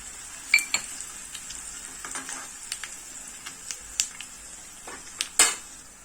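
Sesame seeds sizzle in a hot tempering of oil and asafoetida with the gas turned off, made for a moong dal dhokla; a soft continuous crackle carries sharp scattered pops and spits, close up with no talking.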